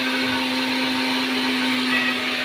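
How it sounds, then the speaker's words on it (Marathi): A kitchen mixer grinder whirs steadily as it grinds roasted masala, a loud continuous motor drone with a strong steady hum and bright grinding hiss that holds unchanged throughout. "आणि मिक्सरमध्ये मसाला बारीक करत आहे."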